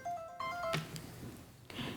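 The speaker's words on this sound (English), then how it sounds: "there's a phone call coming" A telephone rings with an incoming call during a selectmen's meeting, giving a short electronic melodic tone that breaks off, followed by faint room noise and a thump.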